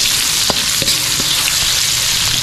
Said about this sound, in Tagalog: Maglalagay lang tayo ng sibuyas.